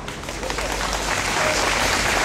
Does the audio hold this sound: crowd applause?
yes